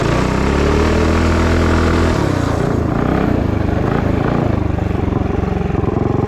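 Engine with a stage 3 build and no air filter idles roughly and loudly up close, a steady chugging rumble that shifts slightly partway through.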